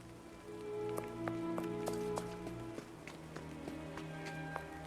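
Rain in the Sherlock Holmes: Nemesis video game, a soft steady patter under a quiet bed of game music with sustained tones and light chimes.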